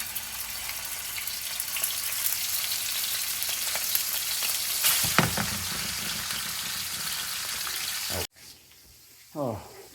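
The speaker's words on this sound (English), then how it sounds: "when the salmon goes on, you hear a little sizzle for sure" Steady crackling sizzle of salmon frying in hot oil, close by, running for several seconds before cutting off abruptly, followed by a brief voice.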